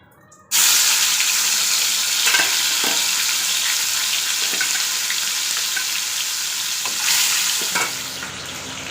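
Pangas fish pieces hit hot oil with an abrupt start, then a loud, dense, continuous sizzle, broken by occasional clinks and scrapes of turning, and no voices.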